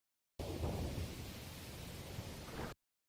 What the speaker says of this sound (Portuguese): Chovendo o quê? Pingos de chuva?